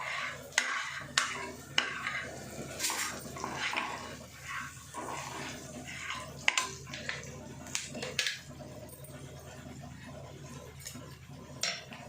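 A spoon scrapes and clinks in a pan as chicken pieces are stirred with turmeric, irregular close-up scraping and knocks repeating over several seconds with no speech.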